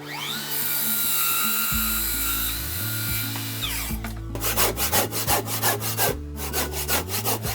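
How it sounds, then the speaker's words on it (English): A handsaw cuts through a Japanese cypress post. A fading machine whine gives way to a run of steady, rhythmic rasping strokes, close and fairly loud, with no speech. "So I cut from one side with a miter saw as much as possible, and cut the other 1/3 with a handsaw."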